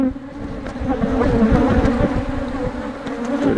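Honey bees buzzing loudly and close during a hive inspection, a dense, steady drone of many wings that swells and wavers around the open hive, with no talking.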